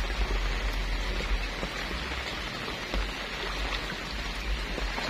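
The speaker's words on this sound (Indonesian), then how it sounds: "Semoga hujannya reda," Steady rain falls outdoors around bonsai plants, a dense, even patter and hiss on surfaces throughout, with no voices.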